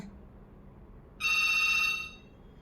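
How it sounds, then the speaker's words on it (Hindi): A single electronic phone ring chirps for about a second, sharp and clear over a quiet room background. "फोन बज गया।"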